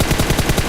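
Rapid automatic gunfire in PUBG Mobile, a steady rhythmic burst of close, loud shots repeating about every fifth of a second.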